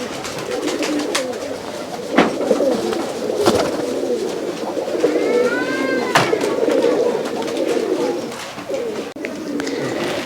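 Racing pigeons coo together in a loft, a dense, continuous murmur of low throaty calls with a few sharper knocks and flutters. A higher chirping call rises briefly in the middle.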